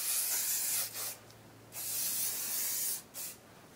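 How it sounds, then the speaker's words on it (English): Aerosol hairspray hisses in several bursts, two long sprays and a few short puffs, close and fairly quiet. "I just spray it with a little bit of hairspray to kind of help it stay in place"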